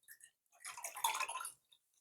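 Cranberry and orange juice is poured into a glass in one short, soft splashing pour that starts and stops within a second or so, faint and close with no voices.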